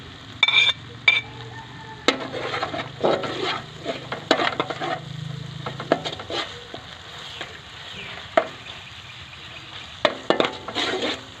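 Chopped mango pickle stir-fried in a pan for pea pulao: a spatula scrapes and clinks against the metal with a low sizzle underneath, in irregular close strokes without talk.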